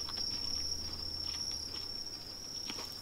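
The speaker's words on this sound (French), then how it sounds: "Ici on croirait qu'il fait nuit parce que t'entends les chants de cigales" Cicadas in the survival video game The Forest chirp in a steady, unbroken high drone through a nighttime-sounding forest scene, with no one talking over it.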